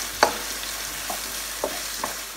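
A spoon stirs cabbage soup with black cabbage, curry, black pepper and basil in a pot, giving a soft steady sizzle with a few distinct scraping clinks spaced out over a couple of seconds, close and fairly quiet, without talk.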